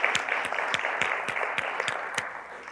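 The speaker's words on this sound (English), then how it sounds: "So round of applause for all the hard work that the governor did on that." Steady audience applause at a state technology event honoring a governor's work, dense clapping filling the room at an even level, with sharper individual claps standing out throughout and no talking.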